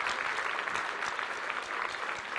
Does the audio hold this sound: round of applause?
yes